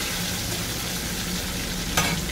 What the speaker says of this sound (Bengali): এরকমভাবে আমি সব মাছগুলোকে ভাজা করে নিচ্ছি।